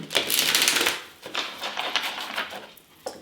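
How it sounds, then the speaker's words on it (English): Tarot cards being shuffled by hand in a quiet room, a dense riffling burst followed by softer bursts of cards sliding and tapping, ending in a sharp slap. "One more shuffle and I think we got that energy."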